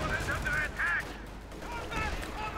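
Bursts of gunfire in a video game battle, with short loud volleys and heavy shooting mixed under in-game voices and effects at moderate distance.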